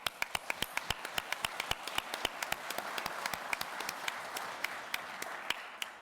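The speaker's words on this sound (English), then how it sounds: "I think you should take a moment to applaud yourselves" An audience at a union convention applauds, with a sharp, distinct clap at the start and a denser wash of clapping that follows, steady and moderately loud.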